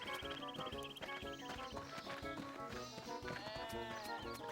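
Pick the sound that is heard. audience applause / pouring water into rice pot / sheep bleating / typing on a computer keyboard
sheep bleating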